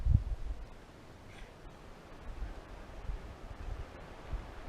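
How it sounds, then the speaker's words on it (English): Steady low wind rumbling and buffeting outdoors at a state park campsite, gusting unevenly with soft rushing noise throughout. "it's kind of windy for a fire anyway"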